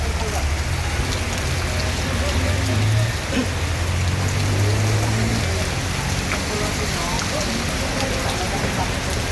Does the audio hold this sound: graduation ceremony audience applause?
no